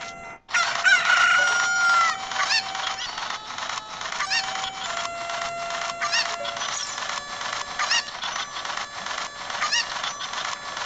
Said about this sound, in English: Where's that chicken at?